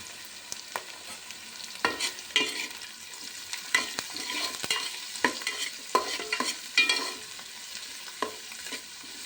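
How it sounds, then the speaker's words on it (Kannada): Onion and capsicum frying in a pan, with a soft steady sizzle broken by repeated scrapes and clacks of a spatula stirring the vegetables at close range. "ಈರುಳ್ಳಿ ಸ್ವಲ್ಪ ಫ್ರೈ ಆಗ್ತಿದ್ದಂಗೆ ಕ್ಯಾಪ್ಸಿಕಮ್ ಹಾಕೋತೀನಿ"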